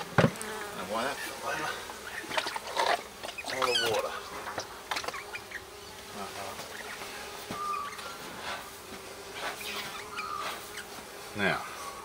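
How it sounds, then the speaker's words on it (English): A dense, continuous buzz of honey bees swarms around an open hive, close and steady, broken by sporadic knocks and handling noises while a person murmurs faintly. "Oh, that's going to annoy the bees."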